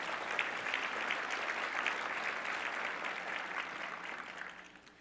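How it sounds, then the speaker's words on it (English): An audience at the Port of Long Beach State of the Port 2018 event applauds the port management team, a steady, dense round of clapping that holds for several seconds before tapering slightly at the end. "Let's give them a big round of applause."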